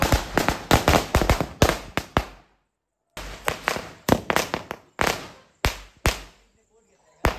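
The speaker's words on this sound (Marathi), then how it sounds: "एक तर पूर्ण इथे मचावू द्या फटाके लावून" Firecrackers at a Konkan festival fire off in rapid strings of loud, sharp cracks, close by. One short silence splits the bursts, which then resume as spaced single bangs.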